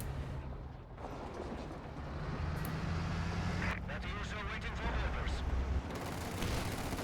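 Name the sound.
Scott self-propelled guns firing barrage in Company of Heroes 2 video game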